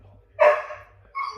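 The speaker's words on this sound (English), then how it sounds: "That's our dog, and he's not very happy right now, and he's barking" An unhappy pet dog lets out one sharp bark that trails off, followed a moment later by a second shorter yelp, fairly close in a quiet indoor kitchen.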